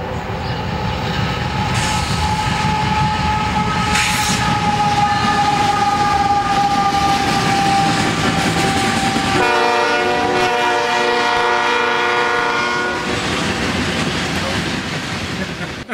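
A train rolls past close by with steady rumbling and wheel clatter, and its horn blares in a long sustained blast over the passing cars.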